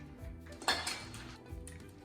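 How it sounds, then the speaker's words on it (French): A spoon scrapes and clinks against a dish while chocolate ganache is spread over a giant homemade napolitain cake, with a few soft, close taps and one sharper scrape, no talking. "Et maintenant, on étale le chocolat."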